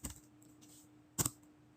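Typing on a computer keyboard: a couple of quiet, sparse key clicks followed by a sharper pair of taps near the end, faint and close with no speech.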